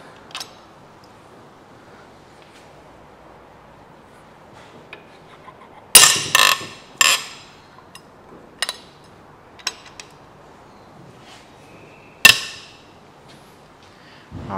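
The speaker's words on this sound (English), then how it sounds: "I just want to crack these head bolts off." A wrench cracking loose the cylinder head bolts on a Kia/Hyundai V6 during head removal: a few sharp metallic clacks and clinks spaced apart over quiet background, some in quick clusters, others isolated.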